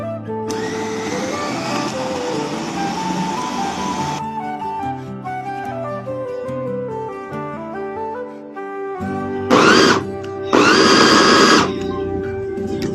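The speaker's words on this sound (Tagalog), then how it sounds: "sa ating mga food processor para magiling" A food processor grinding peanuts into homemade peanut butter, a loud steady motor whir running nearly throughout with shifting tones, briefly cutting out before roaring back in two short bursts.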